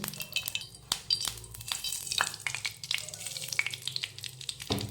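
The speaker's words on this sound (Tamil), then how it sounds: "கடுகு பொரிஞ்சிச்சு" Mustard seeds splutter and pop in hot oil, a dense run of sharp crackles and snaps close by with a steady frying hiss underneath.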